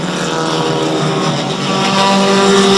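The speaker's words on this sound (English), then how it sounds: "Some fast cars trying to scream towards the front." Race cars roar past on a racing circuit, a loud, continuous engine scream that holds steady and swells slightly as the pack speeds by up close.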